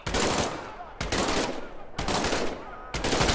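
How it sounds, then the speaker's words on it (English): An M1A1 submachine gun fires in the VR game Medal of Honor, four sustained full-auto bursts each about a second long with brief pauses between, loud and close. "Reach over your shoulder and grab your M1A1 submachine gun. Fire away."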